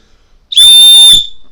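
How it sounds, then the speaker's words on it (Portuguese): A high-pitched whistle blown close up, a single loud, piercing, sustained tone lasting about half a second before it cuts off, standing alone against silence. "Olha o apito"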